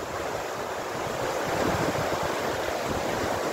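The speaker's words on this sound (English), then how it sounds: "look at that water." Rushing river water flows steadily in Beddgelert, a constant broadband roar of white water heard close and alone throughout, with no voices.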